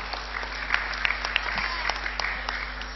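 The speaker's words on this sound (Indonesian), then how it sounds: "Tepuk tangan dulu untuk Dinda." Applause at a children's Quran recitation test during a TPQ graduation event in Tegal, a short burst of scattered, fairly light clapping from an audience over a steady low hum.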